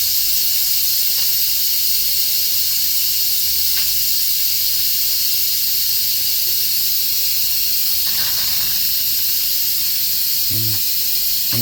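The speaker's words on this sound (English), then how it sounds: "The pressure will be released, and then we'll be able to take the lid off safely." An Instant Pot pressure release valve vents steam in a loud, continuous hiss that runs unbroken for the whole stretch, with a few faint clicks and knocks beneath it.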